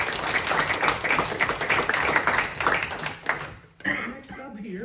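Applause from the audience at a City of Litchfield, Illinois council meeting, honouring the city team. Dense, steady clapping runs for nearly four seconds, then trails off into a short pause and a few voices.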